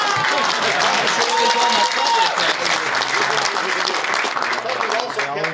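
An audience claps at an outdoor political steak fry speech, dense steady applause filling the whole stretch, fairly loud and near, with a voice speaking over it.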